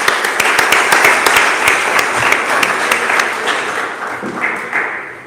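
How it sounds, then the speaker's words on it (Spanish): A conference audience breaks into sustained, dense applause, loud and even throughout before slowly thinning toward the end, with a few louder individual claps standing out. "le doy un aplauso enorme"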